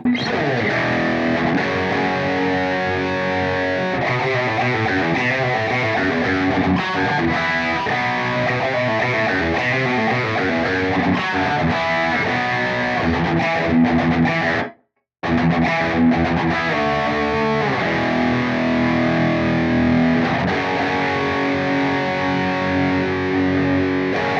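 Driven electric guitar tones from a Blackstar ID-X amplifier preset, loud and continuous, with a brief full dropout near the middle before the distorted playing resumes.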